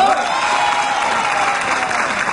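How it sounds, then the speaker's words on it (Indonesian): A studio audience claps steadily and loudly throughout a television talk show, a dense continuous wash of applause with some crowd noise. "Tepuk tangan untuk semuanya."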